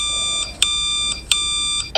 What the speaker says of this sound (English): Answer the bat phone.